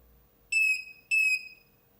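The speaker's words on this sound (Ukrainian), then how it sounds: "20 вольт ще працює, пікає про розряд." Two high-pitched electronic low-battery beeps from a Bluetti EB55 power station at about 20 volts, each about half a second long and evenly spaced, sounding clearly over a quiet background.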